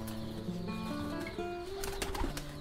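A black-necked cross fighter pigeon coos in low, sustained notes alongside wing flaps and other birds nearby, close and fairly loud.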